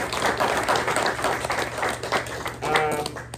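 Audience at a press luncheon breaking into sustained applause, many hands clapping steadily throughout, with some faint talk mixed in beneath.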